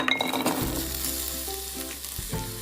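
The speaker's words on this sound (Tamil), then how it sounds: "இப்ப நெய் சூடாயிருச்சு. சின்ன வெங்காயத்தை போட்டுருங்க." Small shallots dropped into hot ghee for ghee fried chicken burst into a loud sizzle, with a clink at the start, then a steady frying hiss.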